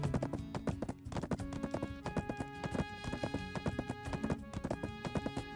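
A horse gallops in a video game, its quick, steady hoofbeats clopping continuously over a bed of tonal game music.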